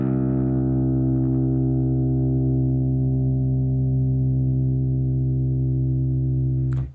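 A single low guitar string, tuned down to C, rings out, sustaining steadily at a deep pitch for several seconds before being cut off abruptly.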